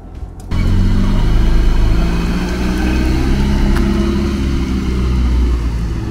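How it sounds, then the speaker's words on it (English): An automatic car pulls away from a hill start as the handbrake is released, its engine rising into a loud, steady acceleration drone heard close up from inside the cabin. "releasing the handbrake and pushing the accelerator more"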